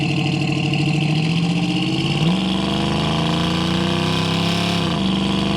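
A 1969 Ford Mustang with its original 302 V8 and automatic transmission accelerates hard, the engine note climbing steadily, dipping at a gear shift, then rising again, loud and close with no talking.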